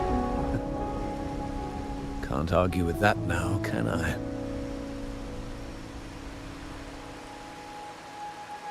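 Steady rain falls in the Wuthering Waves video game, a soft continuous hiss under game music, with someone speaking briefly in the middle while the rain carries on alone afterward.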